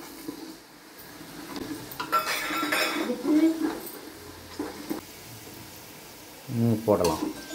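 Fenugreek and cumin seeds sizzling in hot oil while preparing a homemade tomato pickle, with a steady frying hiss under clinks of a spoon against the pan, ending in a few louder scraping knocks.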